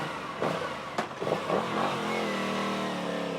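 Aprilia Tuono 660 Factory motorcycle engine revving close by, a couple of sharp throttle blips followed by a rising, sustained rev that settles into a steady drone.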